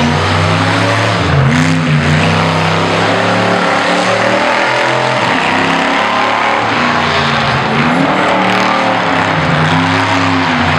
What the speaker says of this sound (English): you would have noticed that as it was running up on the dyno, there's no black smoke either